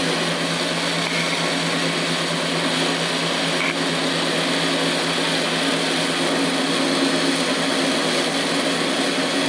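A metal lathe taking light cuts while turning a shaft for a Grizzly G0781 mill motor upgrade, a loud steady whirring motor drone with a constant even tone and no breaks.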